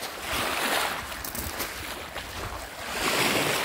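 Waves rolling onto a Turkish beach where polychrome jasper stones gather, a loud rushing surf with gusty wind buffeting the microphone, swelling again near the end.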